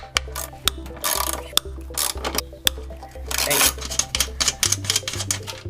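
A ratchet with a deep 12 socket removes nuts while installing a Cusco front strut bar, giving close rapid clicking runs broken by sharp metallic knocks and short pauses.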